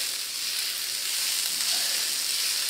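Onions and shallots cooking gently in a wok with butter, a soft steady sizzle that hisses evenly throughout, close by with no talk.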